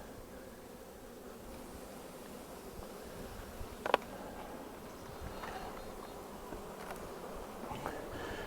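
A dense, steady hum of many honey bees buzzing together in a hive, continuous and close, with a brief sharp tick partway through.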